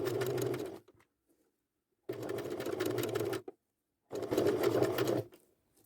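A sewing machine runs in three separate bursts of stitching, each close and steady, with short quiet pauses between them. It is sewing a curved seam on garment fabric.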